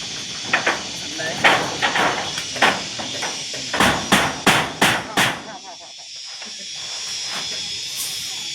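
A series of sharp, evenly spaced hammer blows during roof construction on a house, close and loud, roughly a dozen strikes, with a steady hiss underneath and then a quieter stretch.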